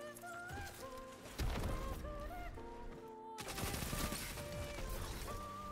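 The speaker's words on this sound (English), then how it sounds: "my teammates are shooting with me." Rapid gunfire from teammates in a PvP video game, bursts of automatic and repeated shots layered over a steady game music bed, loud and continuous through most of the stretch.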